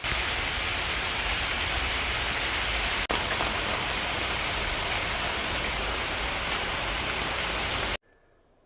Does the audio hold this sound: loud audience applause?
no